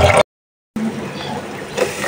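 Running water splashes in short bursts while fresh river fish are rinsed, cut by a brief silent gap, then a softer steady trickle that swells into louder gushing at the end.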